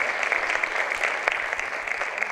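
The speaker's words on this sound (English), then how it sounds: "Let's give him a big round of applause." Applause from the audience at a high school IB graduation ceremony, a dense, even wash of clapping hands sustained throughout, moderately loud with no speech over it.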